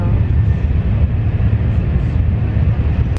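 A steady low rumble of a moving train heard from inside, constant and droning with no distinct clatter, on a train from Yongsan Station, Seoul, to Yeosu.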